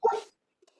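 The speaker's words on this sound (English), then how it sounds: "The dog's barking." A single short dog bark sounds nearby inside a room, followed by near silence with a faint small noise.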